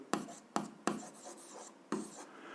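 A pen writes out a math solution on paper, with several short scratchy strokes in quick succession, faint and close with no voices.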